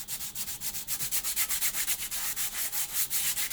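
Rhythmic back-and-forth rasping of 120-grit wall sandpaper over a cement flower pot made from milk cartons, with about twenty steady strokes, close and clear with no talking.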